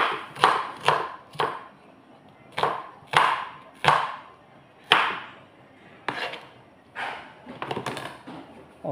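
An onion being chopped on a board, with about a dozen sharp, close knife strikes in uneven bursts and short pauses between them, ending in a quicker cluster of cuts.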